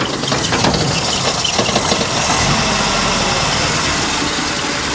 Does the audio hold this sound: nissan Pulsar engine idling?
yes